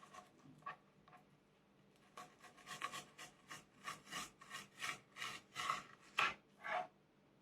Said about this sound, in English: I take out the skins from the fillet.